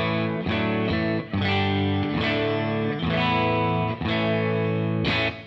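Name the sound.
Two-Rock Classic Reverb Signature guitar amp clean tone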